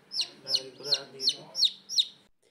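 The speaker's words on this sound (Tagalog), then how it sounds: "Pinagsama-sama na namin yung mga sisiw ng SBR at ng Golden Boy Gilmore Broodhen" Newly hatched chicks of SBR and Golden Boy Gilmore broodhen chicken lines peep six times in an even rhythm, bright and close, with faint background voices underneath.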